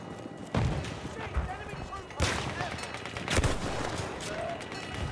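Gunfire in the Battlefield 1 video game, with hurried sniper shots as sharp bursts near 0.5, 2.2 and 3.4 seconds over a busy battle din, while someone talks throughout.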